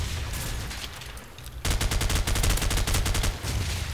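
Rapid automatic gunfire in Call of Duty 4 online multiplayer, loud and continuous, with a steady stream of shots that stutters unevenly from lag, then a dense unbroken burst after a brief lull.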